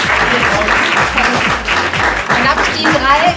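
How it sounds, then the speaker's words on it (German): Audience applause at a beauty blog star finale, dense steady clapping with music or voices mixed underneath throughout. "Vielen Dank, tolle Wahl, Applaus."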